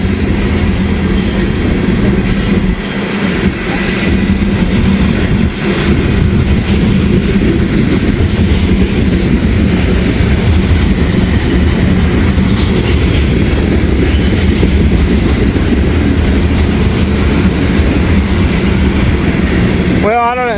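A freight train carrying ethanol tank cars rolls past close by, with a loud continuous rumble and rhythmic clatter of wheels over rail joints throughout, and a brief squeal near the end.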